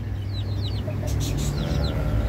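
Small junglefowl chick peeps and chirps sound several times over a low steady rumble, fairly faint and brief.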